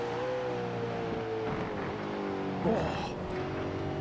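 Race car engine in a sim racing game at Watkins Glen, a steady high drone with throttle feathered through a chicane, pitch dipping and wavering, with a commentator talking over it.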